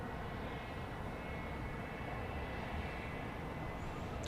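A steady, broad roar of an aircraft at Dallas Love Field at night, loud and continuous throughout with no voices, like a jet rolling or approaching nearby.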